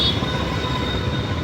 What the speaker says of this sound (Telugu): మెట్రోగా వెళ్ళటం అంటే సిటీలో ఇదిగో ఇలా